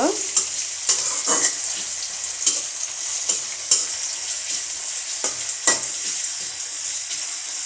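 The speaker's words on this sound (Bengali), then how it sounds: "হালকা ব্রাউন কালার মতো করে ভেজে নিব" Chickpeas frying in a pan as they are browned, with a steady bright sizzle and repeated stirring scrapes in an irregular rhythm, close and fairly loud, no talking.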